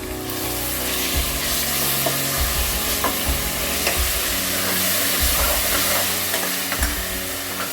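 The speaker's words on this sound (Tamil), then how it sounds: "தயிர் போட்டு நல்லா வதக்கிக்கலாம்" A ladle of curd is sautéed in a frying pan for keema rice, giving a continuous loud sizzle close up, with frequent spoon scrapes and stirring clatter and no speech.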